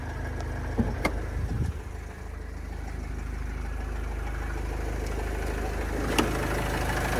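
A 2010 Renault Trafic Passenger Long with a 2.0-litre 115 hp diesel idles close by with an even, low rumbling drone and a few faint clicks, and no voices.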